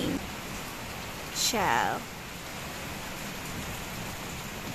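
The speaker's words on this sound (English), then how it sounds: "it's raining" Steady rain falls outdoors, a constant hiss throughout, with a brief spoken voice cutting in near the start.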